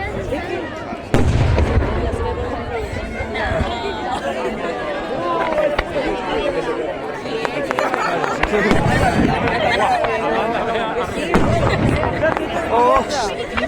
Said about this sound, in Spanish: Fuegos artificiales con fuego.